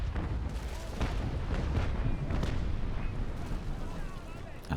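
Naval cannon broadside in the Naval Action sailing game: a rapid series of heavy booms rolling one after another, loud and close, overlapping into a rumbling barrage.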